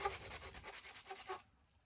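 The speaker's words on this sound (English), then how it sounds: "I'm going to have to sand the end of it down" Sandpaper rubs over the end of a wooden dowel arrow shaft, shaping a blunt tip for a field point, in quick back-and-forth strokes that are close and fairly soft before stopping abruptly.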